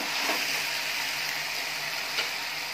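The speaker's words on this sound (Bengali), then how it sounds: "সেই জন্য আমি এখানে লতির সঙ্গে চিংড়ি মাছটা দিয়ে হালকা করে ভেজে নিচ্ছি।" Shrimp lightly frying with taro stolons in a pan, a continuous soft sizzle with occasional stirring scrapes, close and steady with no voices.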